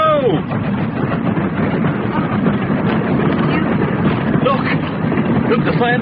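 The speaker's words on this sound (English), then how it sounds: "I like watching trains go by." A steam train on the Great Western rumbles past with a loud, continuous clattering roar and a few squealing accents, while people talk over it in a radio drama scene.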